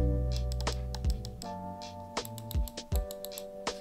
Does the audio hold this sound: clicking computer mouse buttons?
yes